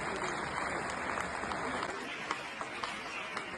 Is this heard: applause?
yes